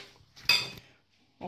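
A utensil stirs apple pie filling with sugar in a bowl, making a brief bright scraping clink and a softer knock a moment later, close and quiet with no talking.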